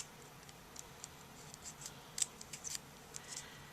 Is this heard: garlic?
no